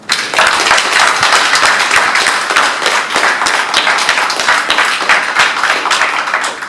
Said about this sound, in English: Can I first ask each and every one of you to really give a passionate round of applause to each and every one.